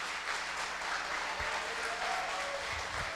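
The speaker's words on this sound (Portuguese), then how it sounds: "eu quero convidar você a aplaudir a Jesus, mais alto do que o louvor da cadeia." A church congregation applauds in a large hall, a dense, even wash of clapping that carries on steadily at moderate distance with a few low thumps.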